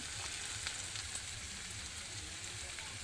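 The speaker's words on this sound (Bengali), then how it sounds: "পেঁয়াজগুলো একটু লাল লাল করে ভেজে নেব" Onions fry in a pan with a faint, steady sizzle, a soft continuous hiss with a few light crackles and no voices.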